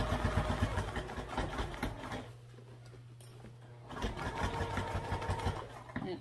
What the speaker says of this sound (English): make sure your machine makes good stitches, otherwise your bag won't hold together